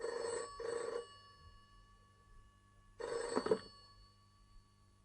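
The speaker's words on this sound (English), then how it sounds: "Lasky received a phone call." A telephone rings in two bursts, each a pair of quick electronic trills, then a pause before the next ring; it sounds moderately loud and close, with no voices.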